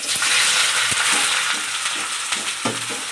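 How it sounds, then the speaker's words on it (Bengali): Onions fry in oil in a kadai, giving a loud, steady sizzle with occasional stirring scrapes and clicks and no voices over it. "প্রথমে কড়াইয়ের মধ্যে তেল দিয়া পেঁয়াজগুলা ভাজা নিতেছি।"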